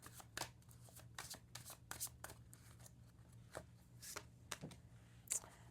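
Energy oracle cards being shuffled by hand in a quiet room, a series of soft, irregular riffling bursts and card slaps spread across several seconds.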